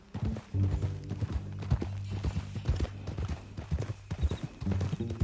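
Horse hooves clip-clop in a steady rhythm on hard ground in a PS4 video game, with faint voices in the background.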